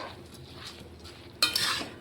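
Rice for spicy Bengali khichuri is stirred in a pan. A quiet scraping gives way to a sudden sharp burst of sizzling and utensil clatter near the end, with no talking.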